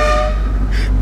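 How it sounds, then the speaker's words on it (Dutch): An unusual custom horn on a car honks loudly and close, a brassy, train-like blast with strong tonal layers that fades toward the end of the second. "Jongens, ik moest net toeteren, maar hoor deze toeter."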